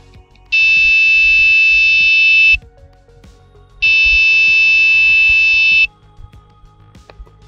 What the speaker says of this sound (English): how you can sound a buzzer